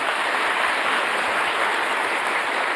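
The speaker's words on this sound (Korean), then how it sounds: "박수 부탁드리겠습니다." An audience claps steadily at a public event featuring a Korean presidential speaker, a dense even wash of applause at constant loudness throughout, with no voices heard over it.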